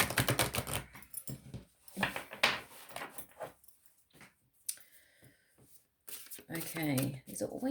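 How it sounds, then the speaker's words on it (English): Someone shuffles a deck of large cards, with quick riffling and flicking bursts at close range between stretches of a person talking. "These are always quite big to shuffle, these cards."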